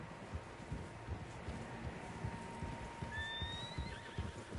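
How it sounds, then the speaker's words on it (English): Horses in Red Dead Redemption 2 whinny and neigh amid a dense patter of hooves, with a steady wind-like background; a high call rises briefly near the end. "Horses, quite a few of them."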